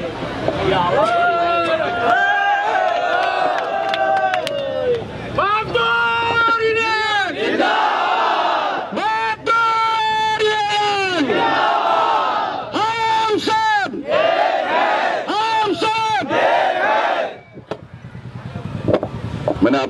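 A protest crowd at a strike chants slogans loudly in repeated rhythmic bursts, voices rising and falling in unison with brief pauses, close and continuous.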